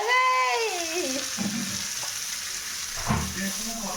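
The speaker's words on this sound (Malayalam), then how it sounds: "ഒരു മീൻ എടുത്തു എണ്ണയിൽ." Fish frying in hot oil at home, a steady sizzle with bubbling crackle throughout and a brief louder burst near the end, with a faint whistling tone early on.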